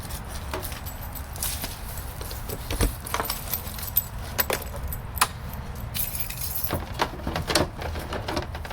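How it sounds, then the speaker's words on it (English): Orange wheel chocks are pulled from the storage compartment of a 2017 Jayco Jay Flight SLX camper trailer, with close rattling, clinking and knocking of plastic against metal in irregular bursts. "So the first thing I would do here is get my orange chocks out of here"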